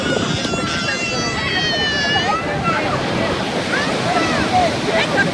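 Ocean waves crash steadily and loudly on Mahabalipuram beach in the evening, a continuous roar of surf with wind and a few voices faintly audible in the background.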